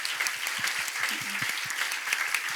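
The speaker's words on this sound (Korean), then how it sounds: "환영의 박수 한번 쳐주십시오." A church congregation at a Mexican worship service gives welcoming applause: a continuous, fairly loud wash of many hands clapping for a couple of seconds, with a few low murmurs beneath.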